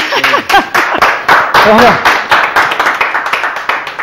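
An audience claps at a live Argentine community broadcast in Chajarí, Entre Ríos, with a burst of applause running under and between laughing voices and chatter, fairly loud and close throughout.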